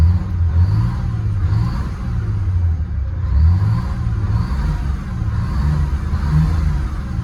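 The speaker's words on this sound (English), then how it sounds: "it's good to hear this bus going" A low, rumbling bus engine idles steadily nearby, its deep drone wavering slightly in pitch with no talking over it.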